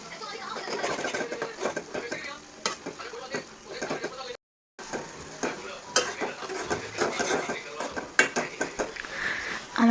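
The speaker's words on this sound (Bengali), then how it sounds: "আমি এখানে ম্যাগি মশলা দিয়ে ভালো করে এটাকে নেড়ে চেড়ে নিব।" Maggi noodles with Maggi masala being stirred in a pan, a busy mix of scraping utensil against metal and soft sizzling, broken by a brief silent gap, with light clatter throughout.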